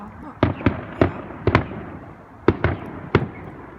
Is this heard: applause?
no